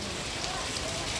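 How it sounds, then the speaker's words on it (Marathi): Steady rain patters densely on a surface, an even wash of hiss with no breaks, heard close for a brief moment. "पाऊस."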